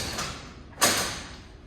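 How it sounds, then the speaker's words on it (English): A door on a building housing race cars opens with a single sharp latch click and a thud, followed by a brief scraping swing against a quiet background. "Here, I'll open the door for you."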